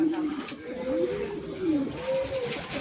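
Racing pigeons arrive at a loft during a clocking session in Tuguegarao, with a low, rolling cooing that rises and falls repeatedly, heard close against steady background noise.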